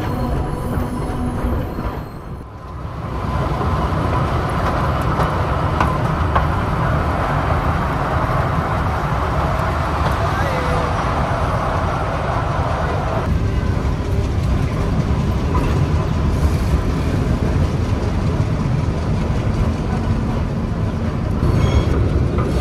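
Bhakra Railway train running near the Sutlej river after leaving Barmala station, a steady loud rumble of wheels and carriage noise continuing throughout with no voices.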